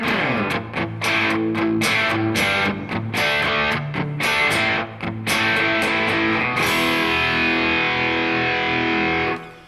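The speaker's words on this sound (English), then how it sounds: "You got the clear overdrive going into a little bit more of a dark sound." Electric guitar through two stacked overdrive pedals, heavily overdriven, playing loud chopped chords, then a long sustained ringing chord fading out; no one speaks.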